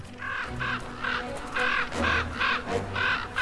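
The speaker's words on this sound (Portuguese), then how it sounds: "Os corvos defendem o seu alimento." Crows in the far-northern wilderness caw loudly in repeated harsh bursts, roughly a dozen calls in quick uneven succession, close by and with no voices, as they guard food from scavenging eagles at a carcass.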